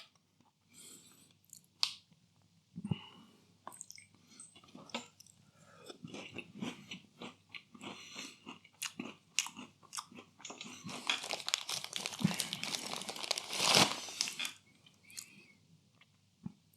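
Close, crisp crunching and chewing of crunchy oat biscuits, McVitie's Hobnob and Tesco Oaties, with repeated bites and steady mastication that grows denser and louder toward the end, with no talking.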